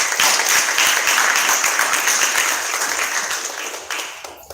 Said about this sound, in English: Give yourselves another round of applause.